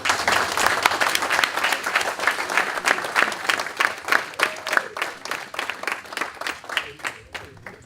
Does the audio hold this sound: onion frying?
no